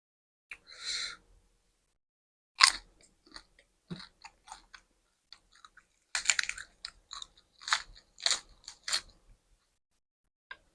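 Crunchy bites and chewing of crispy fried pork belly, close and dry, in scattered bursts: a crackling bite near the start, then a run of sharp crunches and chomps later on, separated by quiet pauses with no talking.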